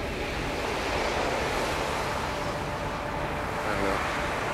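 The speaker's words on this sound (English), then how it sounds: "Right now it just looks like a regular windy day." Steady, loud rushing wind buffets the microphone without letup, a continuous roar with no voices.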